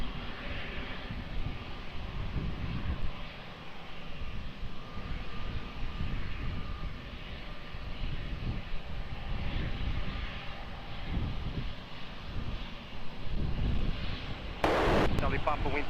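Airplane engines roar at Lisbon Airport during a takeoff, a broad, steady rumble that swells and eases, with wind buffeting the microphone and talk at times over it, plus a brief sharp crackle near the end.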